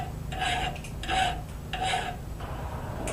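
Hand file rasping steel off the bevels of a blacksmithed axe, three even strokes in a steady rhythm with a fourth softer one, close and moderately quiet.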